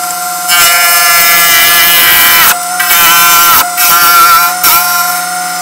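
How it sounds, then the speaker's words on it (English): Wood spins on a lathe while a 1-inch roughing gouge cuts it toward a round cylinder, giving loud, harsh scraping bursts over a steady motor whine, broken by short gaps where the tool lifts away. "I'm going to turn this so it's a round cylindrical shape. And I'll be using my 1-inch roughing gouge to do this."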